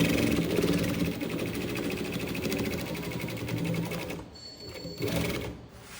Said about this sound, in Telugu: ఎలా స్టిచ్చింగ్ చేస్తానో చూడండి